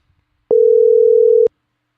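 A WhatsApp phone call tone sounds as a single steady beep lasting about one second, clear and alone against near silence.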